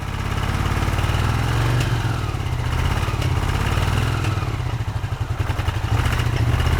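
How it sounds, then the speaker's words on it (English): A Honda CX500 motorcycle engine, long abandoned with only 39 miles, runs loud and close with an uneven, stumbling beat from a misfiring right cylinder, chugging continuously with no talk. "The misfire was definitely coming from the right cylinder."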